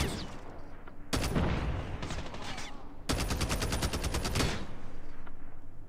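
DR-H assault rifle fired in Call of Duty Mobile on the Highrise map, loud rapid bursts of automatic fire in two main strings with short pauses.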